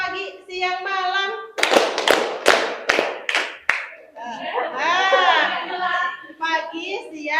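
Children in a classroom clap through a concentration game, a rapid run of about eight loud, sharp claps between stretches of a teacher's voice, with talk before and after the clapping.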